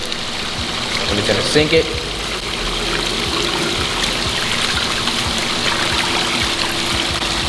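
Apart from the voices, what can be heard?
water pouring into a pool pond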